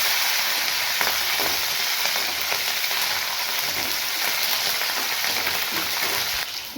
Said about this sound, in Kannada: ಇವಾಗ ನಾನು ಒಣಮೆಣಸಿನ್ಕಾಯಿ, ಹಸಿಮೆಣಸಿನ್ಕಾಯಿನ ಹಾಕ್ಕೊಂಡು ಚೆನ್ನಾಗಿ ಫ್ರೈ ಮಾಡ್ತೀನಿ.